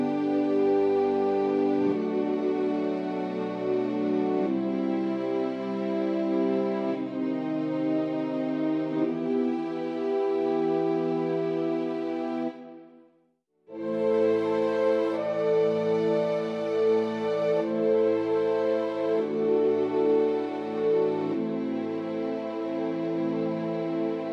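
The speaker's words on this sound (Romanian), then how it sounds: "Am ales 14 viori cu sustain, 14 viori cu tremol și doar 4 French horns care împreună sună cam așa." An orchestral sample layer from Miroslav Philharmonik 2 plays as a dense sustained chord progression. It combines 14 sustained violins, 14 tremolo violins and 4 French horns, with a brief dropout midway before the full texture returns.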